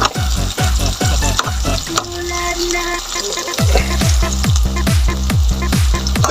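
Red onions fry in a pan with a loud, steady sizzle, cut through by a quick run of rhythmic scraping strokes from stirring, heard close up and with no talking.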